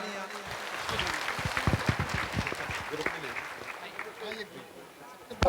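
Loud applause fills a hospital eye camp gathering, dense clapping from a crowd holding steady throughout with a few voices mixed in underneath.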